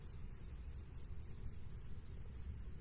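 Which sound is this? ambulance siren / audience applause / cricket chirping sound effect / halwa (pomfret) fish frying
cricket chirping sound effect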